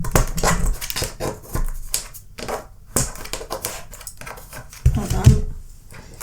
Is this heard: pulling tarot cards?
yes